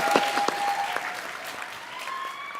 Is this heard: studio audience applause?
yes